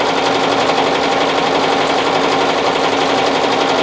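A BAi Vision embroidery machine stitches a 3D puff design, giving a loud, steady, rapid mechanical chatter that runs unbroken and close, with no voices.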